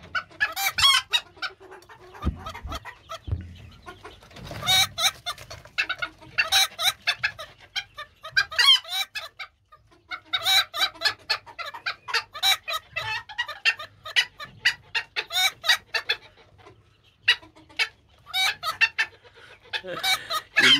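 A 4.5-month-old broody serama hen clucks and chatters continuously up close, soft repeated clucks with occasional louder squawks, no other sounds.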